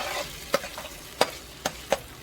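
Spaghetti sauce with beef is stirred in a frying pan, a steady low sizzle broken by four distinct scraping taps of the utensil against the pan, close and moderately loud.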